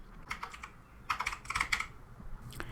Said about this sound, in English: So here I will simply type the word trees.